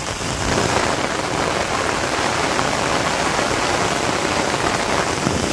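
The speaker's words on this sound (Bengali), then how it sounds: "বৃষ্টি একটু আগের চেয়ে কমছে, কিন্তু বৃষ্টি বানছে ওই দেখেন" Heavy rain pours steadily over a Bangladesh village, a dense, loud, unbroken hiss of downpour with no voices over it.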